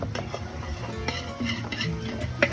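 A spoon stirs chili with onion and garlic in a hot sizzling pan, giving scraping strokes and a few sharp metal knocks against the pan over a steady frying hiss, close up with no talking.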